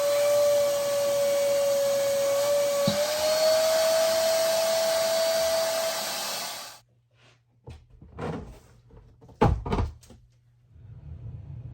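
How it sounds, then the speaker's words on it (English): A small water-filter pump sucks water out of a reptile's water bowl, a steady whirring drone that cuts off, followed by a few short knocks and handling clatters nearby. "just buy a water filter that allows you to suck up water"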